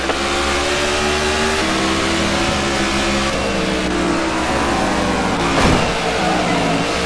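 A car engine running close by, revving and building as it pulls in, with a steady motor drone throughout and a brief louder burst near the end; no talking.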